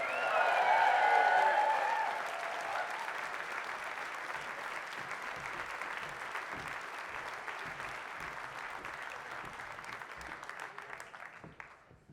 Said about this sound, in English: And you can start cheering as well.